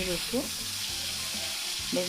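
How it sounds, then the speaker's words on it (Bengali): Pieces of jhatka hilsa fish rubbed with salt and turmeric fry in oil in a wok, a strong steady sizzle with a couple of brief squeaky tonal chirps near the start and end. "আমি মাছগুলো উল্টিয়ে পাল্টিয়ে ভালোভাবে ভেজে নেব, লাল লাল করে"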